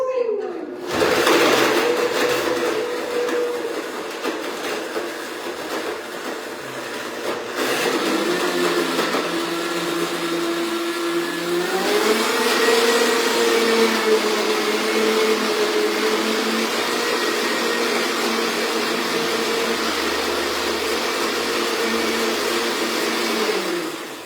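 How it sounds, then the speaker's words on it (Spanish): A kitchen blender blending marinara sauce runs loud and continuous for the whole stretch, its motor pitch dipping and then rising again partway through. "Now we are ready to blend the marinara sauce."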